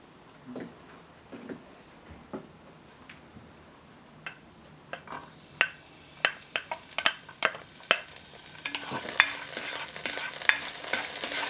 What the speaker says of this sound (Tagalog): Sautein, haluin, igisa, ang bawang.